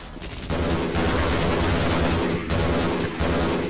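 Dense automatic gunfire from Half-Life Blue Shift crackles loudly and almost without a break, a fast volley of overlapping shots with brief dips in between, and no talk over it.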